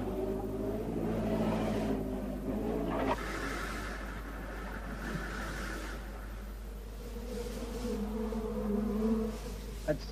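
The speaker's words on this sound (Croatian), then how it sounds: "Kalifornijska klima i četvorodnevni iscrpljujući put izazivaju uzbuđenje kod pčela." Thousands of honeybees hum around some 7000 freshly unloaded hives in California, a dense steady drone with a faint low engine rumble beneath, constant throughout.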